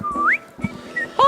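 A Mickey Mouse–style whistle imitated by a voice during a tabletop role-playing session: a few short sliding whistled notes broken by soft breathy sounds, close and clear.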